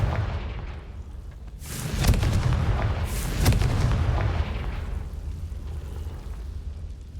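A Confringo blasting curse exploding in Hogwarts Legacy, heard as two loud, sharp blasts a little over a second apart, each followed by deep rumbling that slowly fades.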